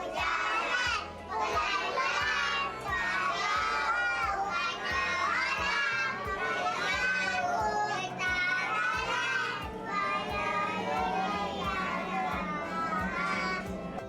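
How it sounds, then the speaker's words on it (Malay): A group of young children sing the Selangor state song and children's songs together aboard an LRT3 light-rail train. Their loud, continuous chorus fills the carriage throughout. "si cilik turut menggamatkan lagi suasana dengan alunan lagu Negeri Selangor serta lagu kanak-kanak"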